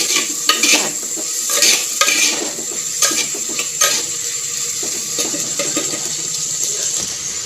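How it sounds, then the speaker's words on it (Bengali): Black lentils and rice frying in a pan for khichuri, a bright continuous sizzle with regular spatula scrapes and clinks against the pan, loud and close. "এখন ভাজবো কালো ডালটা দিয়ে, একটু ভেজে চালগুলো"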